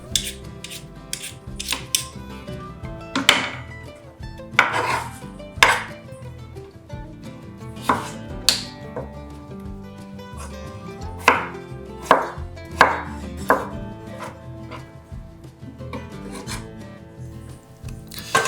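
Peeled potatoes are cubed with a knife on a cutting board, giving sharp, irregular chopping knocks close by, bunched in quick bursts with brief pauses and light scraping between them, with no voices.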